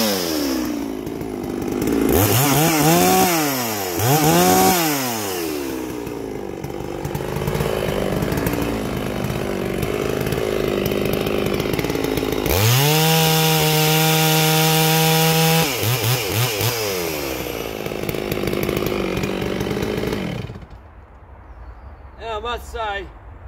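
A Neo-tec NS892 chainsaw, an MS660 clone fitted with a Cannon muffler, runs loud and close, revving up and down in surges, then holding a steady high scream before dropping to idle.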